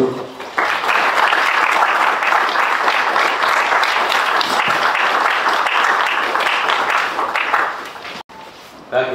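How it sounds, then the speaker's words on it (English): Applause from the audience at an agricultural lecture welcomes the speaker, a loud sustained wave of clapping after brief talk, dying away near the end before speech resumes. "Please, with a hand of applause, let's welcome Professor Godfred Ofosu-Budu"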